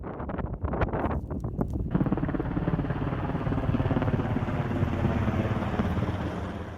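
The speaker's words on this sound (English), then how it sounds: "Helicopters wet down the green side of the road" A firefighting helicopter's rotor drones steadily overhead at a wildfire, loud and continuous, mixed with wind buffeting the microphone after a few brief knocks at the start.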